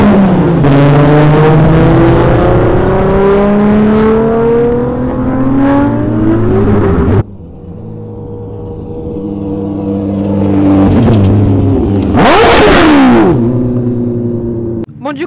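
A Toyota Supra accelerates hard at full throttle, its engine note rising and falling through loud revving sweeps, with a second burst of high-pitched revving near the end; voices talk over it.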